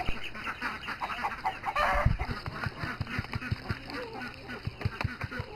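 Chickens on a small garden farm cluck close by in short repeated bursts, with quieter scratching and rustling in between.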